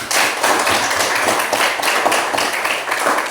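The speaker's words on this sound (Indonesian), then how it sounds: "Untuk itu tepuk tangan dulu semuanya." An audience at a presentation bursts into steady, dense applause, many hands clapping together at moderate loudness for several seconds without talk.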